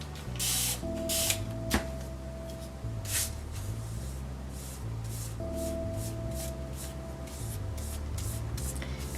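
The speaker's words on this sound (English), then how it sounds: "Let's give it another spray." Several short, sharp sprays from a pump bottle spaced across the clip, with quiet background music and small rubbing noises in between.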